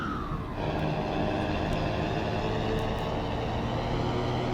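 A Mercedes-Benz 1113 truck engine in Euro Truck Simulator 2 drones and revs steadily, loud and continuous, its rumble holding a rising pitch near the start.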